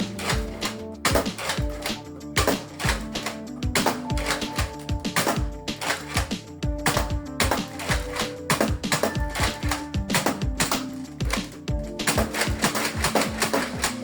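Nerf Elite 2.0 Warden blaster firing darts in a quick series of sharp, close clacks and snaps, priming and shooting over and over in an uneven rhythm with no voices.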